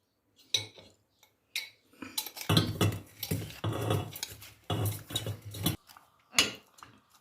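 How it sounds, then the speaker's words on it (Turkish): Metal pot clanks and scrapes several times as it is set on a stove, with clattering handling and a couple of sharp knocks against a hard surface, close by and fairly quiet. "Şu an tenceresini alacağım. Ocağa alacağım."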